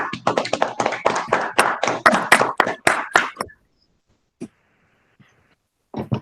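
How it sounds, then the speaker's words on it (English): A few people clap at an online National Honor Society senior induction ceremony, a brief burst of close, sparse handclaps lasting a few seconds, then near silence broken by a couple of faint taps. "Let's give them a round of applause from home."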